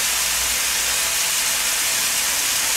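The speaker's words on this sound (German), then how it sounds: "in der Pfanne wird jetzt das Hackfleisch schön angebraten" Ground meat searing in a hot pan on a kitchen stove, a loud, unbroken sizzling hiss that holds steady throughout.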